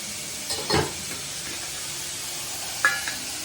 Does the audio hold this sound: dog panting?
no